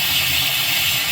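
A loud, steady hiss of steam escaping under pressure from a pressure cooker being opened, continuous and close, with no other sounds.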